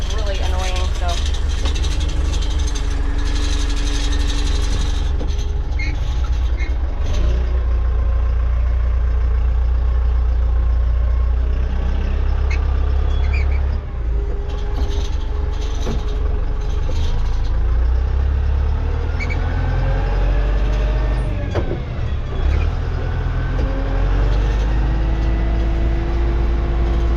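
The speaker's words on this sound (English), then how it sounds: "That guard right there is bumping up against the exhaust." A Kubota tractor engine idles with a loose guard rattling against its exhaust, a steady low drone with intermittent metallic knocking, and people talk over it throughout.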